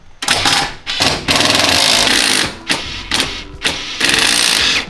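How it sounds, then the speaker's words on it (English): An impact wrench removes Phillips-hex bolts from the suspension of a 1986 Nissan 300ZX in loud, close, hammering bursts of rattling, with short pauses between the pulses. "you can take those screw bolt hermaphrodites out, 2 of them, and just get to it with an impact"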